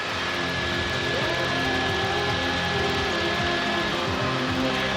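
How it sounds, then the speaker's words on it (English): Continuous loud rotor and engine roar of a tour helicopter in flight over whales off Hawaii, steady and close, filling the whole clip without any talking. "the noise of the helicopter disturbs them"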